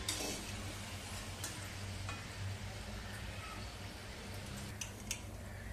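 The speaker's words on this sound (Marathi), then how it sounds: "मध्यम गॅसवरती 3 ते 4 मिनिटं चांगले समोसे सोनेरी होईपर्यंत तळून घेतलेले" Samosas deep-frying in hot oil over a medium gas flame give a steady, close sizzle and bubbling hiss throughout, with a few faint clinks of a utensil near the end.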